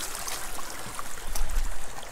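Hot spring water flows steadily from a repaired pipe at an Idaho hot tub, a close, constant rushing trickle with no voices.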